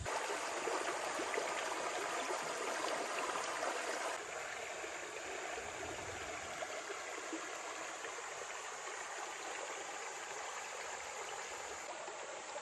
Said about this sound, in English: Sitting in the actual stream right now. Got my feet in the water.